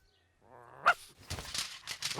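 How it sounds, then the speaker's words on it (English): Cartoon dog barking in an animated children's episode, a short burst of yaps and excited vocal sounds close up, following a brief voice, with no talk over the barks. "Stop it, Bumpy Dog"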